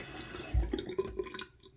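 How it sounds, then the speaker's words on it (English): Hot water running from a kitchen tap while preparing a liver of sulfur patina bath, a short steady rush of flow with splashing as it fills, fairly close and moderate in level. "So I'm going to get some hot water here."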